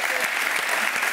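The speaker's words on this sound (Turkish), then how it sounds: "Bir alkış kardeşim." A studio audience applauds in a brief, loud, dense burst of clapping that continues without a break.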